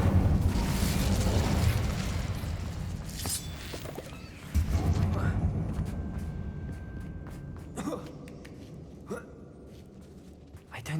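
A fire spell cast in the Hogwarts Legacy video game inside a dark abandoned mine, a loud whooshing burst of flame that swells and fades amid rumbling effects and scattered impacts.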